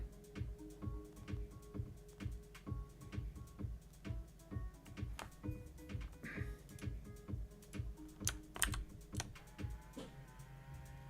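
Steady typing on a computer keyboard, with rapid clicking keystrokes in an even rhythm throughout and a few louder key hits near the end, heard alone without any voices.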